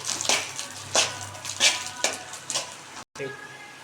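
Fish roe sizzles and crackles in a hot pan while being stir-fried, with several distinct scraping stirs every half second or so over a steady frying hiss, close and moderately loud.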